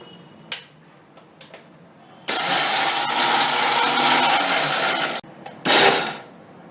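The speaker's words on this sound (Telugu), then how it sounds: "పచ్చిమిరపకాయలు కలిపి మనం ఇప్పుడు మిక్సీలో వేసుకుందాం" A mixer grinder whirs loudly for about three seconds while grinding chutney with green chillies, then stops, followed by a short second burst after quiet clicks.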